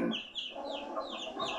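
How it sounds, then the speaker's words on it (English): A mother hen walking with her chicks on a farm clucks in a soft, repeated run of short calls, fairly close and alone without talk. "Mother hen walks with her chicks."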